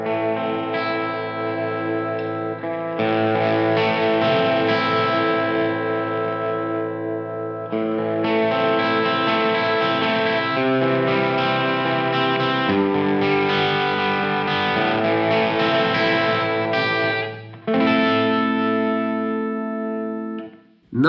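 A Gibson Les Paul Junior electric guitar plays sustained chords and bent notes through light effects, loud and continuous, with a brief break near the end.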